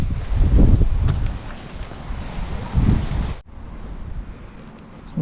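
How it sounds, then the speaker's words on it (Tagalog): Strong wind on Mt. Olis in Atok, Benguet, buffets the microphone in heavy, gusting rumbles that swell and ease, with a sudden drop midway before the roar continues at a lower level. "Oh, lakas ng hangin."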